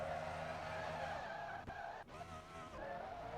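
Race cars doing burnouts at Talladega Superspeedway, with engines roaring and tires squealing continuously, loud and close, with a brief dip partway through.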